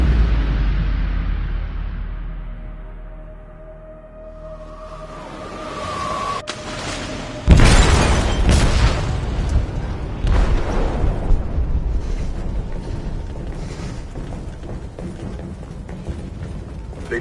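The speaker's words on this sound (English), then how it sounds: "They detonated an explosive in the hold." An explosive detonates in a ship's hold in Detroit: Become Human. A low rumble and quieter mechanical sounds build, then a sharp, heavy boom hits, followed by clattering debris and a long roaring aftermath.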